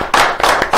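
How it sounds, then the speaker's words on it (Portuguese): Short bursts of hand clapping in a Brazilian football talk show studio, three loud close claps in quick succession, brief and punchy. "uma salva de palmas para o Albena"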